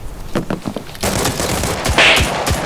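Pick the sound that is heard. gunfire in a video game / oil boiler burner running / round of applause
gunfire in a video game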